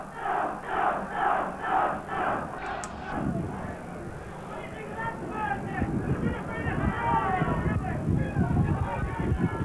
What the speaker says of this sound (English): The crowd really trying to lift them now.